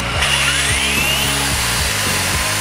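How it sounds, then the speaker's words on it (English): A power drill bores a hole for a turbo fitting on a Yamaha FZ-07 motorcycle, a loud close whine whose pitch dips rhythmically as the bit bites, about five pulses in quick succession, with no speech. "We need to drill a hole here-ish."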